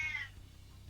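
A person imitates a single cat meow, a short rising-then-falling mew lasting under half a second, followed by quiet room tone.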